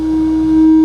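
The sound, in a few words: test tone through Boss DS-1 distortion pedal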